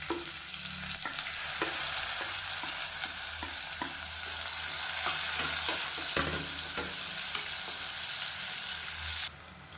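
Chopped onion fries in hot oil with mustard seeds, cumin and curry leaves for a beetroot curry, giving a steady close sizzle broken by repeated scraping stirs of a spoon against the pan.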